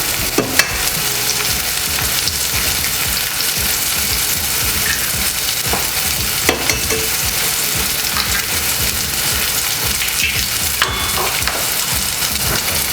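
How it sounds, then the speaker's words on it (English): Eggs crackle and sizzle in a hot frying pan beside mushrooms, halloumi and tomatoes, a loud steady hiss with occasional sharp pops and scraping clicks, no voices. "I'm going to crack my eggs and I'm going to put it on."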